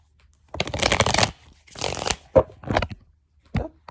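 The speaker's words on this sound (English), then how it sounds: "So let's get a couple more shuffles and we're going to hop into it." A tarot card deck being shuffled close up, with several bursts of riffling and soft card flicks separated by short pauses, no talking.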